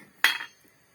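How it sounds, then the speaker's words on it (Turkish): A single metallic scrape and clink as manti dumplings are stirred in boiling water in a metal pot, brief and close, then quiet. "Mantıları tencerenin içine bıraktık. Şöyle bir karıştıralım."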